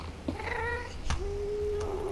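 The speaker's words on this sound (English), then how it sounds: "There's a ghast under me." A Minecraft ghast cries in the Nether, giving a wavering, cat-like wail followed by a long sustained tone, loud and close with no talk.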